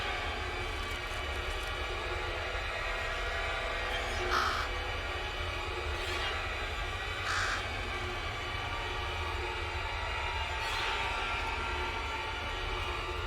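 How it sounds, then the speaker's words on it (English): Several crows caw in Bramble: The Mountain King, a few spaced, harsh calls at middle distance over a steady, dark ambient bed. "this crow's got to her fast"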